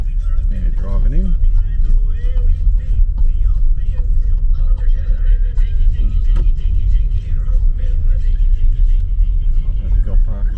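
A car rolls into the Nullarbor Roadhouse in South Australia with a loud, continuous low road and engine rumble that fills the cabin, and a voice briefly surfaces beneath it.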